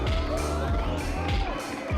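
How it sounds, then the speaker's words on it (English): Loud crowd at a speed climbing World Cup final in Mokpo, Korea, cheering and shouting in a dense continuous roar, with an announcer's voice layered over it. "This is a big warm welcome here from the crowd in Korea"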